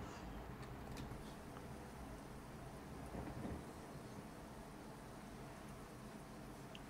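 Steady rain and rumbling thunder from a thunderstorm in a truck driving simulation game, a continuous broadband wash with a soft rolling swell midway, no voices.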